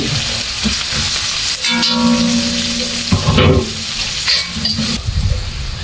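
Chives and bay leaf frying in a pan of hot oil for an Ilocano dish, with a steady loud sizzle broken by the scrape and clatter of stirring, and bursts of crackling as the leaves hit the oil.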